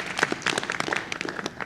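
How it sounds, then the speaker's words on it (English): Short burst of applause at a panel discussion, with distinct individual claps close by, uneven and loose rather than a dense roar. "they really need a round of applause for what they've done today"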